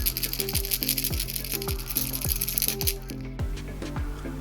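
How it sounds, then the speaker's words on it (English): A rattling micro popper fishing lure is shaken up close, giving a rapid, loud, continuous clatter of internal rattles with sharp repeated clicks, which shift in tone near the end. "And what is really nice, the extreme rattling."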